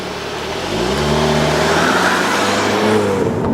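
A 2018 Volkswagen Golf R doing a brake-stand launch, its engine revving loudly with rising harmonic sweeps and then holding a steady high roar close by, no voices.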